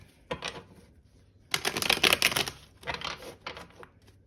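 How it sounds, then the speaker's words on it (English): Tarot cards are shuffled close by with rapid papery riffling in a few bursts, the busiest flurry in the middle. "we'll do one last shuffle."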